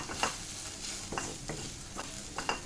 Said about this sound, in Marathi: आता हे व्यवस्थित आपण हलवून घेऊया. मसाला कांद्यामध्ये मिक्स होईल